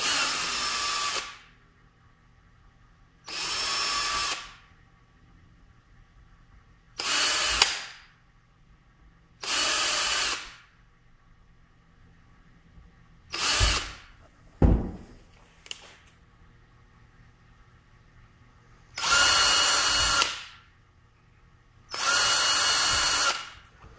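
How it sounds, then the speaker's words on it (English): Power drill whines in short repeated bursts with pauses between, each a few seconds long, as holes are bored into plastic tubing for a homebrew mash tun false bottom. "going around and drilling our holes to make this false bottom for our mash tun"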